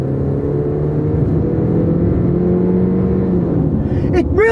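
Honda SUV accelerating in eco mode, a loud steady engine drone and road rumble from inside the cabin with a slowly rising whir, ending in a brief sharper noise.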